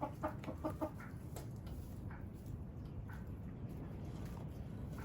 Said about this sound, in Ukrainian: А це півник китайською шовковою.